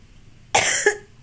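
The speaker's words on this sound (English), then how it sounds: "So I have to cough." A single sharp, close cough from a patient after abdominal surgery, an abrupt burst with a short second push near its end, then quiet.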